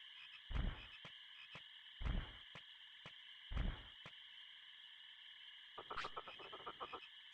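Gekomon toads in the 1999 PlayStation game Digimon World croak in synthesized bursts, three deep ribbits spaced evenly over a sustained electronic tone, followed by a quick rattling trill.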